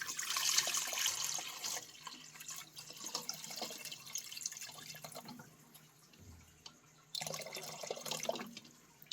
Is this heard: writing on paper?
no